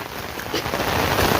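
Heavy rain pours steadily during a stormy day in a village, a dense continuous hiss of drops hitting surfaces that swells slightly louder toward the end, with no voices.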